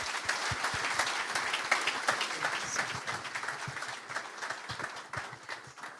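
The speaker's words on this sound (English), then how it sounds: "A round of applause for our speakers." An audience applauds speakers at a conference Q&A session, steady dense clapping throughout at moderate volume with sharp individual claps standing out.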